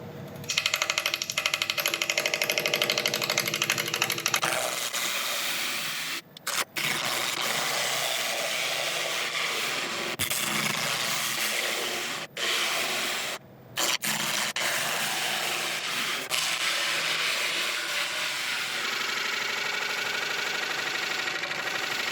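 A burl spins on a wood lathe while the tool takes down its wings, giving a steady mid-pitched machine hum with broadband cutting noise. There are a few brief sharp cuts and dropouts, and no talk.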